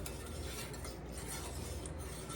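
Gravy being stirred in a pan for smothered burritos, a soft, steady scraping and swishing that carries on without pause, quiet and close, with no talking.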